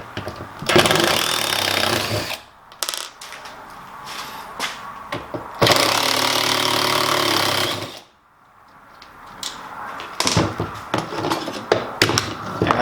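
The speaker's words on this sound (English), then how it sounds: "Alright, now I'll take out these end screws and the middle screw." Power driver backing screws out of a hurricane hinge on a teardrop camper build, two long loud whirring runs with short gaps, followed by scattered clanks and handling noises.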